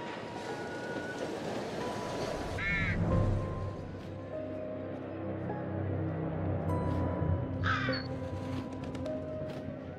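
A crow caws twice in The Devil in Me video game, harsh calls standing out over a steady low rumbling ambience with faint tonal game sounds underneath.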